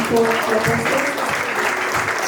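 A church congregation claps steadily and loudly in praise during a French-language conference service, with some voices and cheering mixed into the applause.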